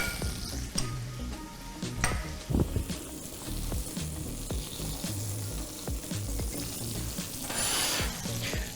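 Courgette sautéing in butter in a frying pan that was just used for Patagonian toothfish, a soft steady sizzle with occasional clinks and stirring taps, quiet and close, with no voices.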